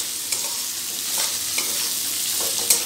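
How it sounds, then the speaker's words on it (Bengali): Finely chopped vegetables with raisins and cashews being stirred and fried in a pan for Bengali veg dal, a steady close sizzle with occasional spatula scrapes, no voices. "এবার একসাথে মিশিয়ে ভেজে নেব।"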